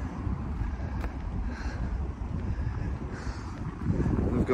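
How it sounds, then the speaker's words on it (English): Steady wind buffets the microphone with low rumbling gusts, swelling slightly louder near the end, with no one speaking. "it's still a bit windy"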